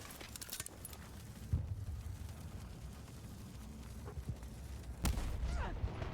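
Sniper rifle shots aimed at a mine in Battlefield 6: two sharp, loud reports a few seconds apart over a low, rumbling game background.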